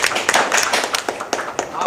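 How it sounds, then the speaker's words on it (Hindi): An audience at a Hindi film press conference claps in a burst of uneven, overlapping hand claps at close range, with voices talking over the applause. "इसके लिए ताली आप बजाएं प्लीज़"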